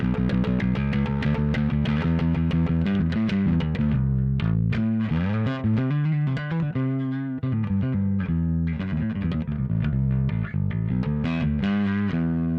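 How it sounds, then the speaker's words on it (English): A distorted Dingwall John Taylor Signature electric bass played fingerstyle, a steady run of plucked low notes with gritty overdrive, loud and continuous with no talking. "Let's try a little finger style with distortion."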